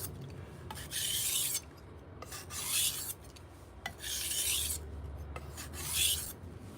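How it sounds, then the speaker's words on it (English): Repeated rasping strokes of a knife edge drawn across a sharpening stone for burr removal, four distinct passes in a steady rhythm, close and fairly quiet, with no talking. "So I'm gonna do a couple burr removal passes."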